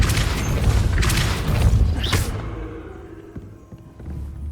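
The Depulso spell is cast in the video game Hogwarts Legacy: a heavy booming burst with crashing texture swells for about two seconds, then cuts away to a quieter low rumble with faint thumps.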